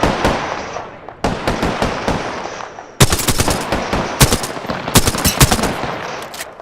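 Loud, rapid automatic gunfire from the video game Apex Legends comes in several sustained bursts with short pauses between them, sharp and close throughout.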